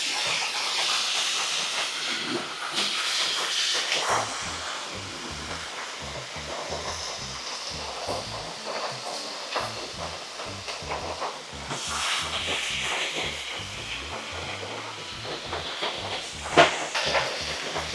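Steak bites sizzle on a Blackstone flat-top griddle just after being flipped, a steady loud hiss that fills the whole stretch, with faint clatter from the cook working over it.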